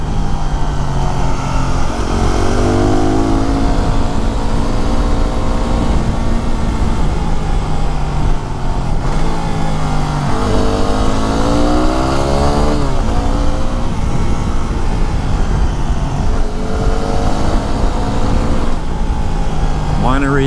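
Yamaha WR250R supermoto motorcycle engine climbing a gravelly mountain road uphill, a loud close buzzing engine rising and falling in pitch through repeated gear changes, with wind rush and a rider talking over it.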